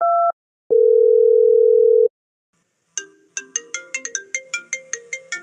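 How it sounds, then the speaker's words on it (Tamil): Outgoing call on a phone: a brief tone and a steady dial tone, then a repeating ringback melody of bright electronic chirps, loud and clear with no voices. "நானே மறுபடியும் ஃபோன் பண்ணி பார்க்கேன்."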